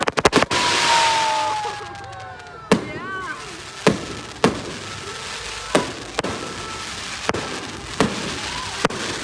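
Fireworks and firecrackers at a 14 August Independence Day celebration: a whistling launch, then a series of sharp, loud cracks at irregular intervals, some near and some echoing, under faint background voices.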